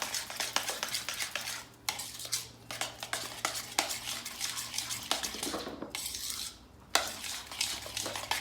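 A spoon whisks rapidly against a bowl as drops of red food colouring are mixed in, producing dense fast clinking strokes with brief pauses, near and fairly loud, with no voices.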